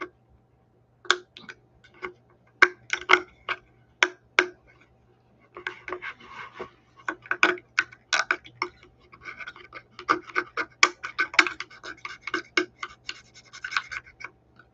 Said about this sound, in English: You take your knife, you scrape it out